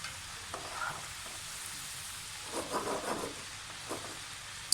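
Potato fries sizzle in hot oil in a pan, a steady close frying hiss with a few louder crackling bursts and light stirring, no voices.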